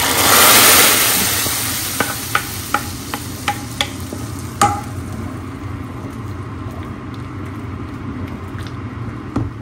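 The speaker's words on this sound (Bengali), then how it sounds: "এখন শুধু বেশি করে পেঁয়াজ রসুন দিয়ে বাগার দেওয়ার পালা।" Onion and garlic hiss loudly as a tempering poured into thin dal, a strong sizzle at first that settles to a steady fry, with a row of sharp clinks and taps in between.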